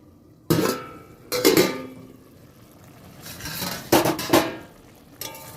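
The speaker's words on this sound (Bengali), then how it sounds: "আলু আর ঢেঁড়সটা সিদ্ধ হওয়ার জন্য একটু ঢাকা চাপা দিয়ে দিচ্ছি" Potatoes and okra cooking in a pot as a lid is set over it, with a few metallic clangs and clatters of cookware against a quiet kitchen background.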